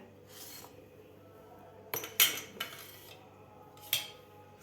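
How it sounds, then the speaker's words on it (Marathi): A knife works through eggplants for a spicy Maharashtrian dish, producing a handful of crisp clicks and taps against a board and utensils over a quiet kitchen background. "तोपर्यंत आपण वांगे कापून घेऊया"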